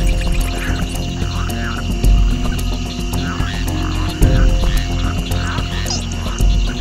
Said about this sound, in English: frogs try to stay hidden or reduce their calls to a brief low-frequency rumble